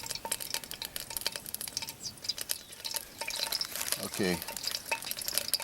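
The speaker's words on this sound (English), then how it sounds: "you can already hear the oil going" Oil sizzling and crackling in a mess kit pan over a camp stove, a steady close frying hiss with some stirring and pan clatter, and a brief spoken word over it.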